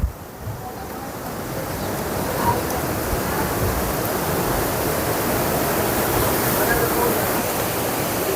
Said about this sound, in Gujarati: તો સરસ મજાનું પાણી વહી રહ્યું છે અહીંયા કને